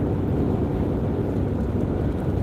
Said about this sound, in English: It's pretty windy. Pretty windy at the campsite